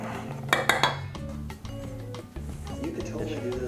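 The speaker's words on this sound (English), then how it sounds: "then we whisk it up." Sugar is whisked into a mixture in a bowl, the metal whisk clinking and rattling against the sides in quick bursts, then settling into lighter scraping taps.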